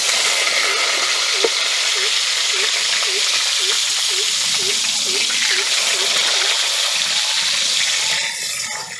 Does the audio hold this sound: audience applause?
no